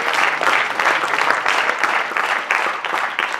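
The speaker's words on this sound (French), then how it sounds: "tonnerre d'applaudissements" A seated audience at a triathlon press conference in Alpe d'Huez applauds a triathlete with steady, dense clapping throughout and no talking over it.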